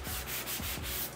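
A sanding sponge rubs over drywall in quick back-and-forth strokes, a soft, close, rhythmic scraping with about five passes in a little over a second.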